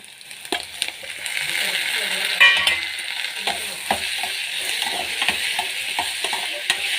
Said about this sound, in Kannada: ಟೊಮೊಟೊವನ್ನು ಫ್ರೈ ಮಾಡಿಕೊಳ್ಳೋಣ